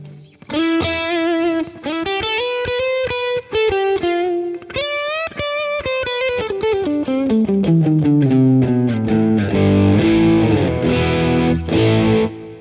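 Electric guitar played through a Boss Katana GO headphone amp with distortion and hall reverb, sustained melodic notes and chords ringing out loud and alone, with a long reverberant tail.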